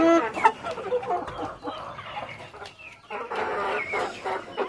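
Chickens cluck and squawk close by in a steady, chattering flock, with short bursts of louder calls rising over the din.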